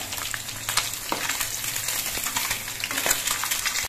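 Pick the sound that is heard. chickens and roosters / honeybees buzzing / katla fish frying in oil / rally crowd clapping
katla fish frying in oil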